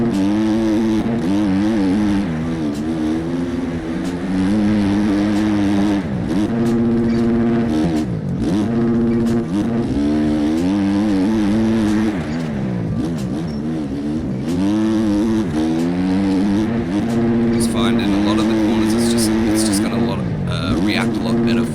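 A dirt bike engine in MX Bikes revs and drops in repeated waves while riding bumpy corners, loud and continuous, with someone talking over it.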